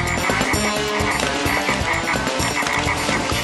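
Cartoon frogs croaking in a dense, continuous chorus of rapid, overlapping croaks, loud and close throughout, with no talking.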